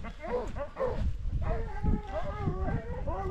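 Hunting hounds on a chase in the Basque Country bark and yelp close by, a busy run of overlapping barks and whines with no break.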